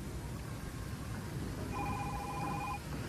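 A telephone rings with a short electronic trill lasting about a second, heard faintly over a constant background hiss in a classic drama scene.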